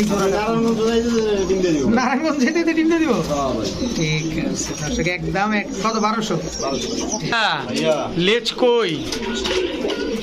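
American Lokkha pigeons coo in rolling, repeated calls close by, while someone talks loudly over them almost throughout.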